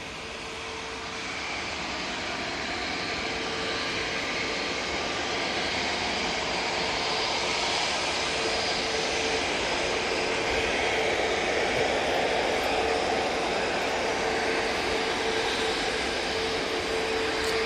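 An EasyJet airliner's jet engines roar steadily at Manchester Airport, a broad sustained rumble and hiss that swells gradually and holds loud throughout, with no talking.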